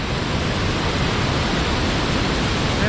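The Bomuru waterfall in the Bomuru chain pours down below with a loud, constant roar of rushing water, broad and unbroken, with nothing else heard over it.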